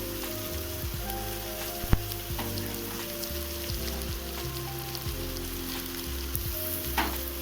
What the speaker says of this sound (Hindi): तो चलिए पत्ता गोभी और शिमला मिर्च डाल देते हैं फ्राई होने के लिए।